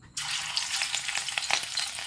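Fish marinated with turmeric, red chili powder and salt fries all at once in a large pan, a dense steady sizzle starting abruptly after a short silence, with crackling pops scattered throughout.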